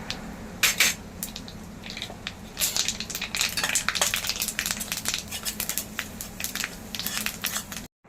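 Masala and sesame seeds sizzle and crackle in a pan while being roasted for a crispy thin-poha chivda snack. Steady frying is broken by scattered sharp pops and scraping stirs, and the sound cuts off abruptly at the end.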